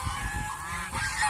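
Geese honking together on a goose farm, a steady overlapping chorus of calls close by with no voices.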